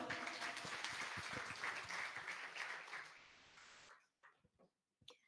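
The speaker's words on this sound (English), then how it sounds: "A big round of applause." An audience applauds at a first-year engineering induction and orientation program, a dense burst of hand claps that fades out after about four seconds, leaving a few scattered claps.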